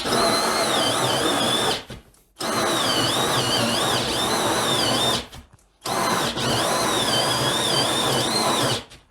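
Edon AD-12AUN cordless drill driving a 68 mm hole saw into a board, a loud, strained whine in three long bursts separated by short pauses, with wavering pitch as the bit bogs down.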